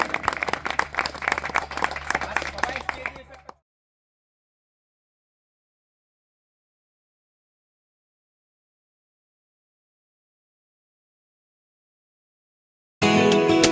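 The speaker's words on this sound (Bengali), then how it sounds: "সবাই জোরে হাততালি, সবাই বড় জোরে হাততালি।" An audience at a school alumni reunion gives loud, dense applause for a few seconds, then falls completely silent for a long gap before another burst of clapping starts abruptly at the end.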